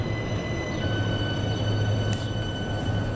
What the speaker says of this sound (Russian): А вот поездочек здесь, я возле вокзальчика, возле железной дороги